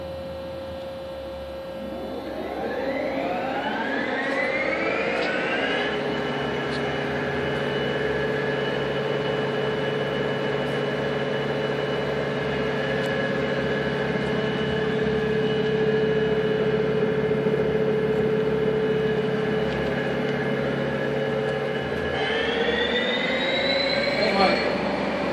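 A Doosan Puma V550 CNC machine spindle runs at 500 RPM, whining up in rising tones, then holding a steady loud humming drone before shifting pitch near the end, with a voice talking over it.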